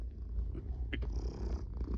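A house cat purring up close, a soft continuous low rumble with a faint brief rustle in the middle.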